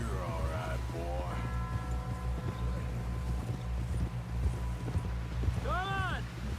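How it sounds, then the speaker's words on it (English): Horse hooves clip-clop in a steady rhythm beneath wind noise and people talking, in the video game Red Dead Redemption 2. "Someone help John down off this horse"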